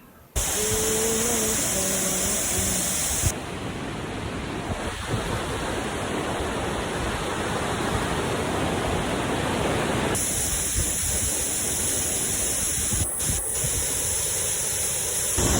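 Sundarijal waterfall swollen after rain, a loud, constant roaring rush of water close by, steady and broadband throughout with faint wind buffeting.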